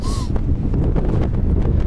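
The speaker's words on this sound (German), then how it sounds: "Ja, es windet ganz schön." Strong wind blowing through a forest, roaring and buffeting the microphone in a constant low rumble with gusty swells.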